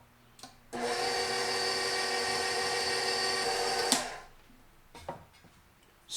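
An electric mixer blends pound cake batter in a steady, high-pitched whir for about three seconds, then stops, followed by a few faint clinks and quiet kitchen noises.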